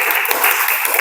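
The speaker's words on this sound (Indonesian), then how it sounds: "beri tepuk tangan." Classroom applause from students, a brief burst of dense clapping that stays loud and steady for about a second, with no talking over it.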